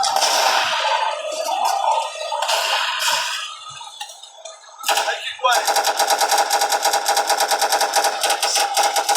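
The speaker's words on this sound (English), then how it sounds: "those zombies are not gonna withstand against my M1 rifle" Rapid rifle gunfire from an M1 rifle in the Guts and Blackpowder zombie video game, an earlier brief burst and then a loud, steady rattling stream of shots filling the second half.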